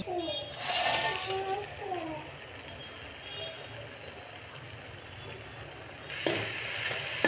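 Veg Manchurian balls tumble into a hot pan and sizzle loudly, then a softer frying hiss settles under light stirring, with a brief clatter of the spoon near the end.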